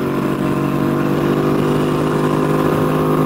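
A motorcycle engine holds steady at about 5,500 RPM while cruising near 73 mph on the highway, a loud, continuous high-revving drone with wind rush and no talking.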